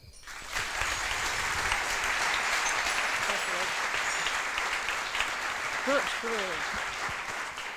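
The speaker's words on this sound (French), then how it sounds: "Merci d'applaudir très fort Anne." Audience applause at an evening storytelling event, a steady dense clapping that swells in and holds throughout, with a few faint voices and whoops rising briefly near the end.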